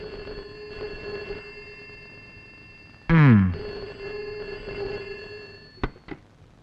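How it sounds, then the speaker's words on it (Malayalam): A home telephone rings in a brief, loud burst of bell trills, set against a steady hum and a couple of sharp clicks afterward. "അയ്യോ, അവനാ ഫോൺ ചെയ്യുന്നത്."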